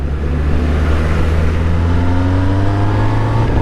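A car on a busy Indian road revs hard as it drives past, its deep engine drone rising in pitch and staying loud and steady throughout, with no talking.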